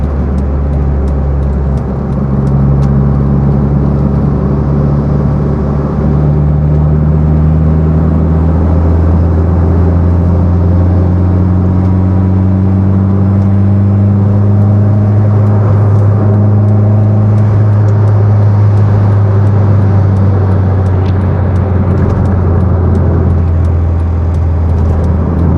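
A tuned Honda City Turbo making about 252 wheel horsepower accelerates along the NLEX highway, its loud engine drone rising steadily in pitch through long pulls and then settling, heard from inside the car with no talk.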